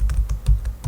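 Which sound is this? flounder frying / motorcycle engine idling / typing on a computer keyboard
typing on a computer keyboard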